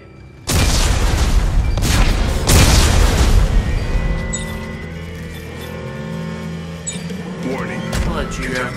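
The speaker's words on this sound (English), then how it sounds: "And detonate" A detonation in the Dead Space 3 video game: a heavy booming blast strikes suddenly, a second boom follows about two seconds later, then a long rumbling decay with mechanical tones under a talking voice.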